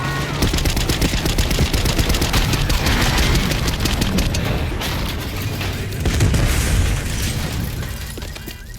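Gunfire in a Black Ops 6 video game cutscene, dense bursts of shots and booming blasts that run continuously and loudly across the whole stretch.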